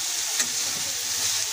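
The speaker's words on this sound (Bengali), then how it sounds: "আঁচ মিডিয়াম স্লো রেখে ভেজে নিতে হবে।" Green beans fry in a pan over medium-low heat, giving a steady, crackling sizzle with occasional soft stirring scrapes and no voices.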